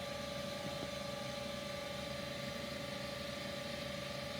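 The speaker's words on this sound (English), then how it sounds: "now induction motor is running" Induction motor running steadily on a bench in an electrical drives lab, a continuous even hum with a steady tonal whine, constant in level throughout.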